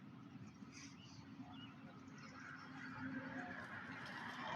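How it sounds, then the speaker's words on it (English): Geese honk faintly and intermittently while a turkey chases them outdoors, the scattered calls sitting over a steady low background rumble that grows slightly louder toward the end. "It's chasing the geese."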